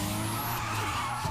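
Tires skid and squeal through a drift in Need for Speed Underground 2, a continuous loud screech over steady engine roar lasting the whole moment with no talk.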